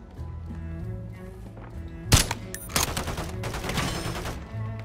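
Gunfire in a Call of Duty match: a sharp loud shot, then scattered rapid bursts of automatic fire over a low game background, with no talk.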